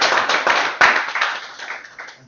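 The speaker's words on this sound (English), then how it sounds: "Let's give another round of applause." A short burst of hand clapping rises from the audience at a Sunday feast class, quick and fairly close, trailing off within a couple of seconds.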